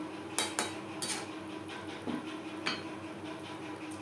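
Fried lentil fritters being stirred into gravy in a pan for a potato and pointed gourd curry, with a few sharp utensil clinks and scrapes against the pan over a low steady background.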